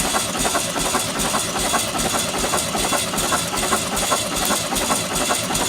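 A VW Sunbug engine cranks steadily over during a compression test on one cylinder, a dense continuous churning drone heard up close with no talking.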